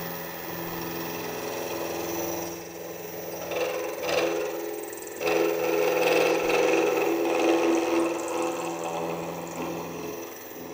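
A shaper milling head takes a 1 mm cut with a high speed steel cutter, giving a steady mechanical whir and scraping that grows louder and rougher partway through, with some chatter, and no voices.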